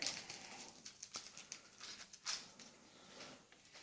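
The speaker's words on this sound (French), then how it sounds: "maintenant nous allons prendre le morceau de sucre. Nous allons le déballer." A sugar cube's paper wrapper is peeled open, giving soft, close crinkles and small papery crackles scattered through an otherwise quiet room.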